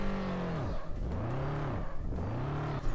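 A Miata with an FA20 engine swap, all upgrades except nitrous, 735 horsepower and all-wheel drive, revs repeatedly in the Drift Streets Japan racing game, its pitch sweeping up and down in three close, loud pulls.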